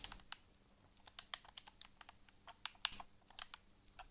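Quick, uneven keystrokes rattle on a computer keyboard, close and fairly quiet, with short bursts of clicks and brief pauses, with no one speaking.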